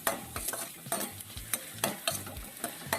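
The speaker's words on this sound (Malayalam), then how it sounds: "അപ്പോൾ ഇതൊന്ന് വഴറ്റിയെടുക്കാം." Ingredients for beef stew are sautéed in a pan, a continuous close sizzle punctuated by regular scraping stirs about every half second, with no voices.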